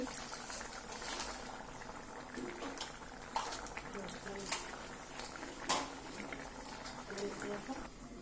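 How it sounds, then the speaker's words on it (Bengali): Chingri malaikari curry bubbling in a pan, a soft continuous simmer with scattered pops and bursting bubbles, close but faint, with quiet background noise and occasional small clicks. "দেখো তরকারিটা ফুটে গেছে"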